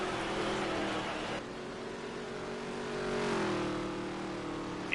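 Dirt race cars roar together in a heat race at Las Vegas, a steady loud engine drone with a pitch drop midway and a rising surge near the end, no voices.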